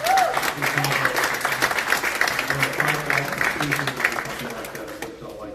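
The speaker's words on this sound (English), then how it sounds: "big round of applause for Deanna and the entire City Clerk's team" Dense, sustained applause from an audience at a city council meeting, steady and fairly close, with a voice briefly audible over the clapping before it tapers off at the end.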